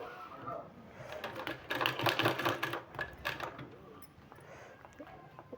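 Bursts of rapid mechanical stitching from a sewing machine running over folded fabric for a sleeve, fast rattling runs starting and stopping close by.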